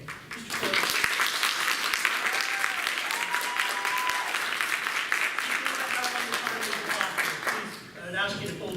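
Audience at a political field forum applauding, dense sustained clapping that fills the room for several seconds before tapering off, with a voice speaking over it near the end.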